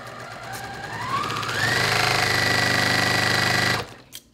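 A sewing machine stitches quilt block fabric with a steady, close mechanical whir that rises in speed and then holds an even rapid hum for a couple of seconds before stopping abruptly.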